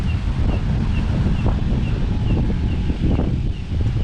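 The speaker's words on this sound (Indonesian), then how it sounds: "Anginnya sangat kencang sekali." Strong wind blows at night in the Alas Gumitir forest, a steady loud roar and rumble against the microphone with faint rustling throughout and no voices.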